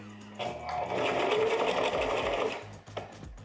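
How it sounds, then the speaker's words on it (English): A sewing machine runs at a low, steady speed for about two seconds of close stitching, starting and stopping cleanly with no voices over it. "Start off with just pushing this right in there, dropping it down, and now we're ready to sew."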